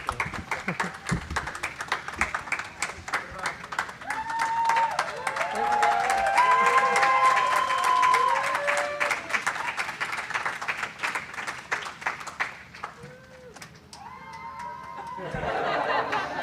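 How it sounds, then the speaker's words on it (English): Crew members entering the CHAPEA Mission 1 habitat are sent off with a round of applause: sharp, close clapping from a small crowd with cheers and laughter, while voices talk and exclaim over it, fading near the end. "Please join me in a round of applause as we wish our crew well"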